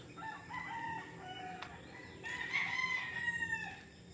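Roosters on a gamefowl training farm near Nagcarlan crow and cluck, with one clear, drawn-out crow rising over quieter background clucking and farm ambience.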